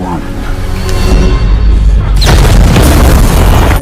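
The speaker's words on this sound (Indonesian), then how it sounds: "Ternyata bom itu hanya untuk menggertak si Saripudin." A film bomb explodes after a countdown. Rumbling, noisy sound builds for two seconds, then a loud, deep boom bursts out and roars on without fading until it stops abruptly.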